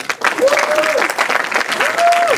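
Seminar audience applauding a guest speaker, a loud dense wash of clapping from a crowd, with brief whoops or cries rising over it.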